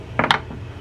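Small metal parts rattling and clicking as a Penn Battle II 4000 spinning fishing reel is taken apart, including its pinion gear; two quick, close, faint clinks in a row, with no talk.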